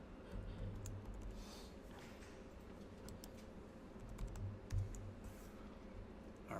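Typing on a computer keyboard during JavaScript coding, a quiet run of rapid, irregular key clicks at close range, soft and steady with a few louder taps.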